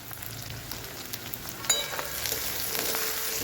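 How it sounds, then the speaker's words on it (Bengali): Potato pieces fry with a little turmeric powder in a pan, giving a steady close sizzle that swells after a sharp clatter as they go in, with no talking. "সামান্য পরিমাণে হলুদের গুঁড়ো দিয়ে আলু ভেজে নেব"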